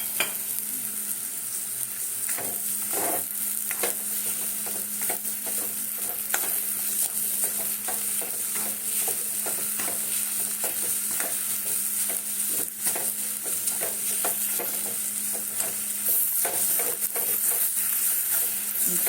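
Sugar and cardamom being stirred into a sweet filling in a hot pan for winter pitha, a steady sizzle with repeated scraping strokes of the spoon, close and continuous throughout.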